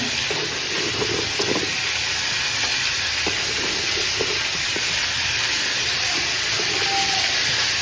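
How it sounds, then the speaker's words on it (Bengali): Vegetable stems fry in a pan with a loud, continuous sizzle and hiss, punctuated by occasional soft stirring scrapes. "এটা একটু ভাজা ভাজা হোক"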